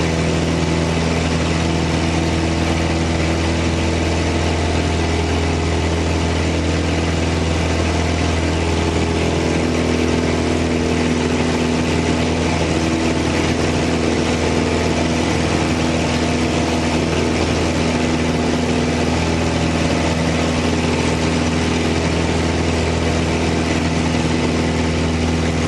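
A small airplane engine drones continuously during a climb after takeoff in crosswind, heard from inside the cockpit as a loud, steady hum with constant tone and no talking for the whole stretch.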